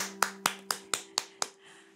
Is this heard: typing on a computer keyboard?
no